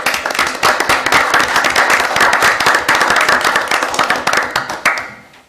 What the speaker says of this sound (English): Let's give him a little round of applause.